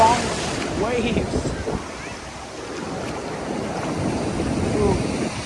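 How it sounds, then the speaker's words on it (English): Powerful surf breaks and rolls along a Florida Gulf beach, a continuous loud wash with wind buffeting the microphone, swelling slightly toward the end while a person speaks briefly near the start. "Those are strong waves."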